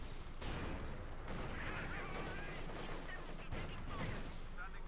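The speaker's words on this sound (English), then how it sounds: "we got a field howitzer up here for Burmie, adding in some artillery" Field howitzer artillery fire in the strategy game Company of Heroes 2, a continuous dense rumble of distant booms and crackling gunfire layered together at moderate loudness.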